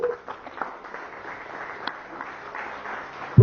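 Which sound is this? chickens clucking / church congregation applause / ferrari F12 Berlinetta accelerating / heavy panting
church congregation applause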